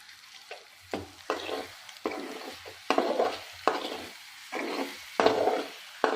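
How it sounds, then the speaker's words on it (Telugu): Egg fried rice with chili powder is stirred in a pan, repeated scraping and tossing strokes with sizzling bursts, roughly one stroke per second, close and alone. "మళ్ళీ ఒకసారి తిప్పుకుందామండి"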